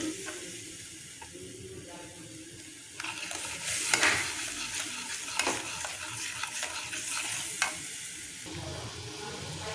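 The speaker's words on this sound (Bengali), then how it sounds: "মশলাটা দিয়ে ভালো করে কষিয়ে নেব এইভাবে নেড়ে নেড়ে" Mustard masala fries over a medium flame while being stirred back and forth, with a continuous sizzle that grows louder partway through and repeated scraping strokes of a spatula against the pan.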